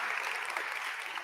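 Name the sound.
audience applause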